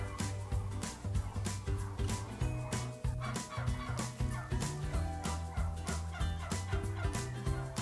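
Organic turkeys in their barn gobble and cluck in a dense, constant chorus, with many close and overlapping calls and no speech.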